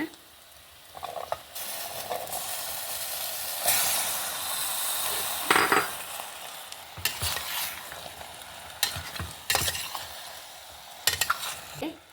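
Chickpeas tipped into a pan of frying brinjal, tomato puree and tomato curry, then stirred, with a steady sizzle and hiss and several sharp scraping and clattering bursts of the spoon against the pan, close and fairly loud.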